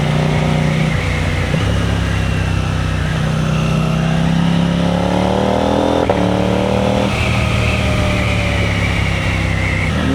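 A 2026 KTM 990 RC R motorcycle with a homemade exhaust delete rides up close through its gears, its harsh engine note rising and falling under throttle with a pop on the downshift.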